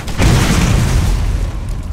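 A rocket launcher explosion in the Borderlands video game booms deep and loud, a heavy rumbling blast that sustains and slowly decays.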